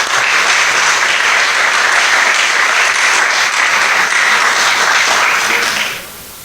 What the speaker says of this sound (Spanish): pues un aplauso a los participantes.